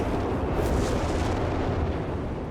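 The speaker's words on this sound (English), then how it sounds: "While also under fire from British artillery." British artillery shelling in the real-time strategy game Company of Heroes 3: a dense, continuous roar of distant booms and rumbling blasts with no pauses, loud and steady throughout.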